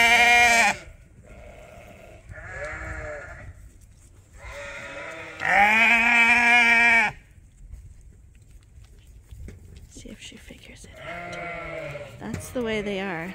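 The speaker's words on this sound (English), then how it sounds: "now this one's screaming because she can't see her group" Loud, strained bleats from a lamb cut off from its flock in a farm pasture, several long wavering calls in a row with short gaps, close by, and a person talking softly between them.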